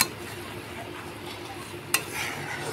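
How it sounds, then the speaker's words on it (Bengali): Taro dal gets its sizzling tempering in a hot pan: a steady, close hiss of frying spices runs throughout, broken by one sharp clatter of utensil on metal near the end. "এই যে কচুর ডালটা এখনই ফোড়ন দিলাম"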